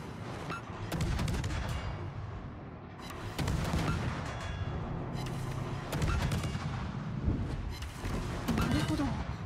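Naval guns boom repeatedly during a World of Warships battle with the destroyer Vampire II, heavy blasts recurring every few seconds over a dense rumbling background while a voice talks intermittently.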